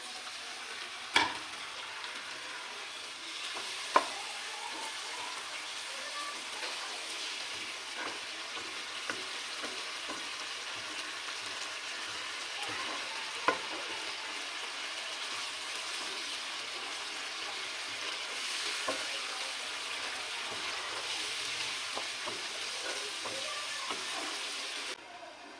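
Chicken karahi with white cumin, coriander powder and a little water sizzles and bubbles in a pan, a steady faint frying hiss with occasional sharp clinks and pops, no voices.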